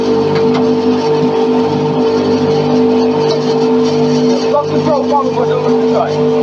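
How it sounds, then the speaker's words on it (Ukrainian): A homemade grain mill with an electric motor and drum runs empty after grinding, giving a loud, steady mechanical drone with a constant hum and no pauses. "Після того, як закінчилося молоть, ми його зразу не вимикаємо."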